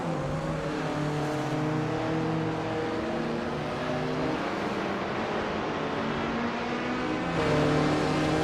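Group 3 race cars battle at the Vallelunga circuit in a racing video game, their engines droning and rising in pitch through corners. Several cars are heard close together in a steady, loud mechanical roar.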